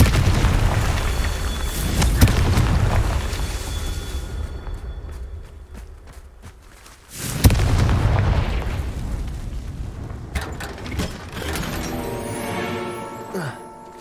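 Confringo fire spells cast in the video game Hogwarts Legacy burst in a string of loud booming explosions, with a heavy blast near the start and another midway, followed by rumbling and crackling debris.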